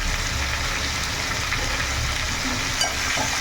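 Vegetables seasoned with turmeric and salt fry and sizzle in a pan while being stirred, a steady close hiss with faint scraping, no one speaking.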